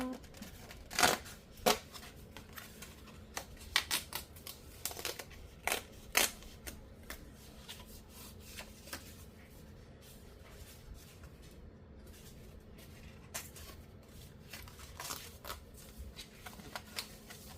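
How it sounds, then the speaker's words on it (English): Scissors fussy cutting paper for a junk journal, giving repeated soft snips and rustling paper handling, with louder clusters early and quieter cutting later, close and alone without talk. "So I'm gonna fussy cut this really quick"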